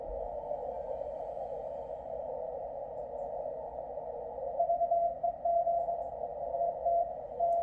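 A steady shortwave radio tone from an NCDXF International Beacon Project beacon hums continuously under static, with faint keyed beeps pulsing in a Morse-like pattern in the second half.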